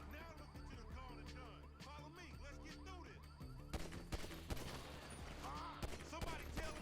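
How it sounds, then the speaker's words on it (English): Bursts of gunfire in a GTA V gunfight crackle under overlapping game dialogue, with heavier volleys of shots growing denser in the second half. "After this, the gunfight becomes pretty simple, meaning you just have to kill the rest of the guys"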